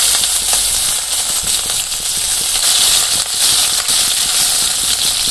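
Chopped onion with cumin sizzles loudly in hot oil just used for frying fish, a steady dense hiss and crackle running throughout with no talk.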